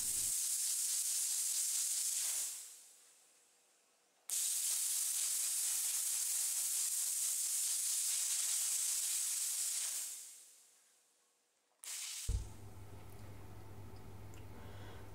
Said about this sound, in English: Due to the slightly greasy nature of the dirt, the technique chosen was steam cleaning